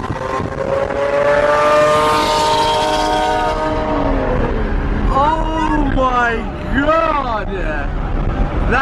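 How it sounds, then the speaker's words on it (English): A supercar with a loud exhaust on a busy Dubai road roars past close by, its note climbing steadily and then breaking into several sharp rising and falling rev blips over constant traffic noise. "That car, it's got the craziest exhaust."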